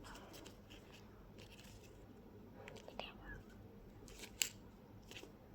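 A plastic pouch of Gluta collagen pink juice is cut open. Faint, close scissor snips and soft crinkles come through against a quiet hiss, with a hushed voice in the background.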